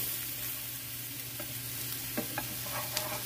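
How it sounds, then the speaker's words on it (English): Onions frying on a griddle give a steady, close sizzle, with a few soft scrapes and taps as they are flipped, under a low background hum. "now it's time to flip the onion over. I'm going to cook on the other side"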